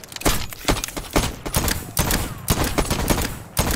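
A gun fired in the Voidtrain video game, a loud, close series of sharp shots in an uneven rapid rhythm, about a dozen cracks in a few seconds with no talking.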